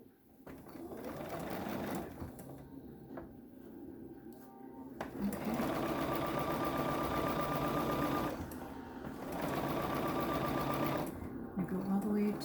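A sewing machine runs in several bursts stitching a pillowcase, a close mechanical whirring hum that starts, pauses and resumes, with a voice talking between and over the runs.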